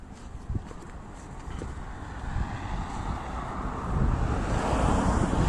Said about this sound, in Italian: Guardate che bellissimo lungomare, quindi siamo nella zona ionica di Messina.